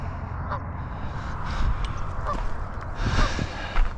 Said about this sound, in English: And there's some baby ducks